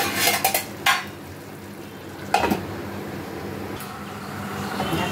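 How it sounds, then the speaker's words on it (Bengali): Utensil scrapes and clinks against a cooking pot while kolar ghonto (banana curry) simmers with added water, a few sharp metallic knocks early on as it is stirred and covered, then a steady low simmering hiss. "এখন আমি একটু ঢাকা দিয়ে দেবো।"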